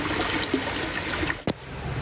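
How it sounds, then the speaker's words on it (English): Water gushes and trickles steadily out of a boat's engine during an engine test, a continuous wet splashing flow with one brief sharp knock partway through. "That's a lot of water coming out."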